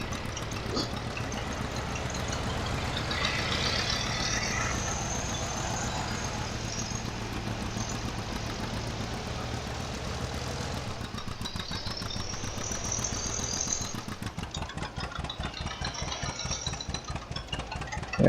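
A tractor engine idles and runs steadily in the farming game Farming Simulator 17, a continuous mid-pitched drone with a rapid mechanical pulse lasting throughout and no talking over it.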